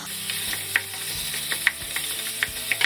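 Beef going into sautéed onions in a pan gives a steady close sizzle with scattered scraping clicks from stirring, and nobody speaks.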